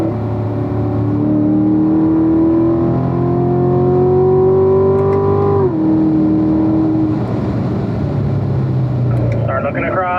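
A car accelerates hard on the Spring Mountain Motorsports Resort track, its loud, close engine climbing steadily in pitch before a sharp drop at an upshift, then holding a steady drone with wind and road noise.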